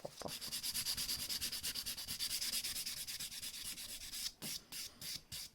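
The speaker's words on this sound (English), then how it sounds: "where's my buffer? Buff." Nail buffer scrubbing over acrylic nails, quick rhythmic rasping strokes repeating steadily up close, then a few slower separated swipes at the end.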